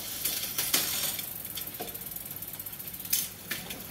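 Gears shift on a Trek 3700 mountain bike with a 21-speed drivetrain, a run of close mechanical ticking and clicking clatter with a few sharper clicks, heard alone.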